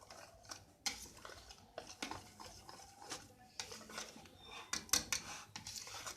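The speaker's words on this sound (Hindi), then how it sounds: "इसे अच्छी तरह से मिक्स करेंगे।" Egg and flour batter, with water and salt, stirred by hand in a bowl for paratha, a spoon scraping and clinking against the sides in irregular taps and swishes, close up and fairly quiet.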